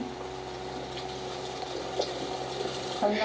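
Strong water flow pours into a swimming pool in the Brookhaven video game, a steady continuous rush with a few brief splashy bursts, fairly quiet and unbroken throughout.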